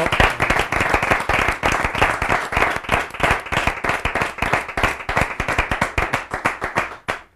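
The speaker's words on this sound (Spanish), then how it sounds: "Un aplauso, ¿no, señores?" A studio audience at a Spanish television show claps steadily and loudly. Sharp, closely packed handclaps fall in an even rhythm for about seven seconds, then stop abruptly.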